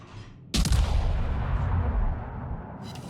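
Naval gunfire from an Arkansas battleship in the World of Warships video game, a single loud booming shot with a rumbling tail that fades over about two seconds, followed by a faint crackle.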